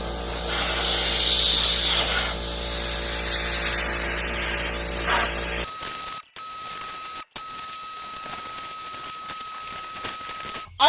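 An electric pressure washer sprays in a garage with a loud, dense hiss for about six seconds, then cuts to a much quieter stretch of faint ticks and short bursts.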